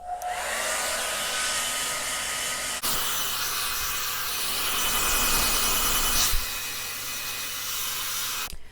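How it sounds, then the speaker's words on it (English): A hair dryer blows continuously at close range while drying short hair, its airflow roar shifting slightly as it moves around, with brief changes in pitch. "just kind of blow dry around."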